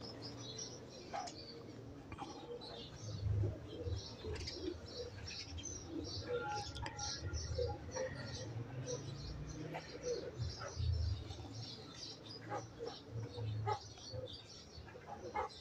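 Soft pigeon cooing repeats through a busy outdoor scene, with scattered chirps and some wing flutters amid background noise and occasional voices.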